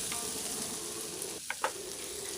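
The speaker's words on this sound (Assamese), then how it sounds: "গোটেইখিনি ভালকে এতিয়া লৰাই থাকিব লাগিব যাতে মছলাখিনি লাগি যায়" Spices including garam masala and chili powder are stirred and fried in a pan for a chole paneer masala: a steady, close sizzle with two brief scraping stir knocks near the middle.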